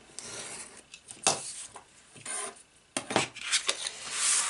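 A strip of junk journal paper being cut off: several close, crisp snipping and rasping strokes in irregular bursts, with quiet pauses between them and no speech.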